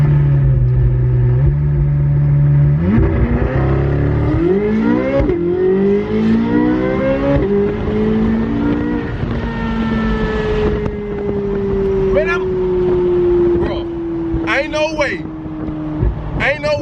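Chevrolet C8 Corvette Z06 launched at about 2,000 RPM with tire spin, its engine note climbing in stepped revs and then holding a long, loud, steady drone, with excited voices talking over it.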